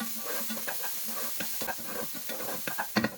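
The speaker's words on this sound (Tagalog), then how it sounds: "Syempre, kailangan halo-haluin natin hanggang sa maluto na yung garlic ginger paste." Garlic ginger paste with onions sizzles in a pan while a utensil scrapes and stirs in short irregular strokes, the frying hiss constant beneath the clicks and clatter.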